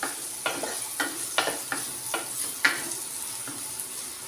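About twenty-five shallots fry in oil for a fish curry, giving a soft, steady sizzle. A spoon scrapes and taps against the pan in about eight evenly spaced strokes, and no one speaks.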